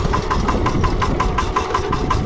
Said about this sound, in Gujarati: હવે રિવર્સ ચાલશે ટ્રેક્ટર જોઈ લો રિવર્સ ચાલે છે